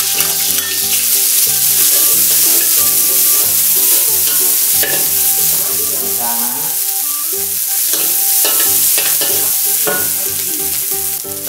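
Herbs, including krachai, stir-fry in hot oil for a spicy fish pad cha, making a loud, continuous sizzle with stirring clatter throughout and background music underneath.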